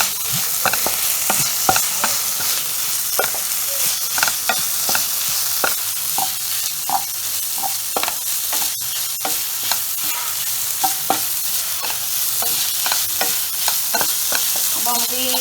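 Sliced onions sauté and sizzle in a pan for Kerala-style beef roast, with steady frying hiss and frequent sharp scraping clicks of a spoon stirring throughout, close and fairly loud with no talking.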